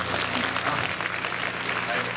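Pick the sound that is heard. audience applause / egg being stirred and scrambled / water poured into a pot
audience applause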